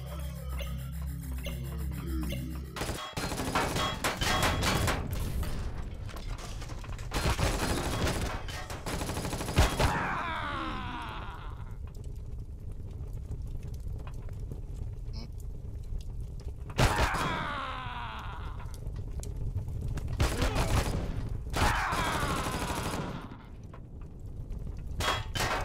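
Sentry turret fire in a co-op shooter game: several bursts of rapid automatic gunfire with metallic clanks, recurring across the clip amid game noise and sparse player chatter.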